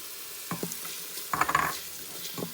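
Food sautes in an Instant Pot with short bursts of sizzling and stirring scrapes, three small clusters spread across a few seconds, fairly quiet and close.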